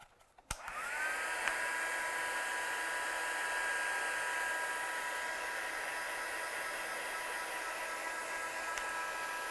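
After a sharp switch click, a heat tool starts and runs as a constant close whoosh with a high whine while it dries an inked card. The blowing stays unbroken to the end, and no one speaks.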